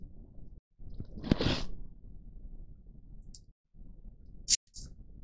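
Mouse clicks while working in Photoshop, a few short sharp clicks close up in a quiet room with faint rustling between them.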